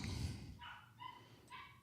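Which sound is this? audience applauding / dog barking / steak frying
dog barking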